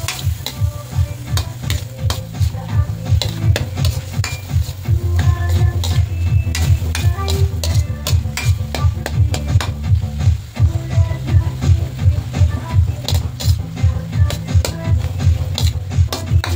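Ground pork (giniling) fries in a pan while a spatula stirs it in quick, rhythmic scrapes. The meat sizzles continuously underneath, close up and without any voices.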